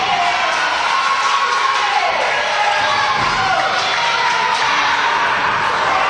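A wrestling crowd at a CHIKARA Young Lions Cup show roars and cheers continuously, loud and dense, with shouts and whoops poking through and commentary running over it.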